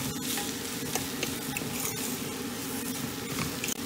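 Egg roast masala is stirred in oil in a pan on a stove, giving a continuous close sizzle and frying hiss with soft scraping stir strokes running throughout, no talking.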